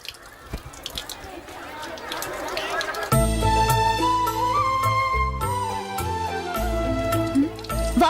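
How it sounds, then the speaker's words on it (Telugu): Water drips from a broken, leaking tap for about three seconds, soft and close, before loud music cuts in and fills the rest. "ట్యాప్ పాడైపోయింది. నీళ్లు చూడు ఎలా వేస్ట్ అయిపోతున్నాయో."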